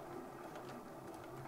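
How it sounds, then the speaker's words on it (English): A sewing machine stitches the seam of an elastic-waist summer skirt, a faint, steady mechanical whir running evenly throughout. "Backstitch and then continue sewing around"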